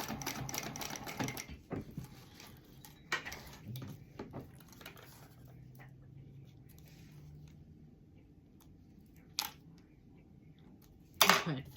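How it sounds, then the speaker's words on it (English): A sewing machine stitches across a zip pocket, bursts of fast rapid needle chatter at the start and in short runs, separated by quieter pauses and soft handling clicks, fairly faint and close. "put your foot down, and sew across"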